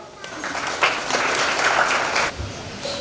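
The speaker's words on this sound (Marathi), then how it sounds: "यावेळेस त्यांच्यासाठी आपण टाळ्या वाजवूया." Wedding guests at a ceremony applaud the bride and groom in a steady burst of clapping that lasts a couple of seconds and then tapers off. It sounds moderately close, with a faint voice underneath.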